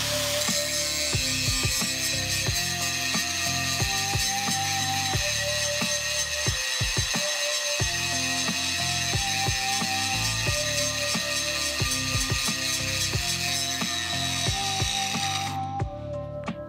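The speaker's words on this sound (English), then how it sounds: "Now I'll be grinding this cast manifold." A grinder works a cast iron exhaust manifold during a spark test, giving a loud, continuous abrasive whine with a harsh metallic rasp that holds steady for about fifteen seconds before cutting off abruptly near the end, with no talking.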